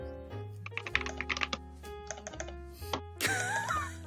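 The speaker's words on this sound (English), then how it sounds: "I like how you can hear somebody clicking." Rapid, furious clicking and key presses on a computer keyboard, a dense run of sharp close taps, then a brighter burst of sound near the end; no talk.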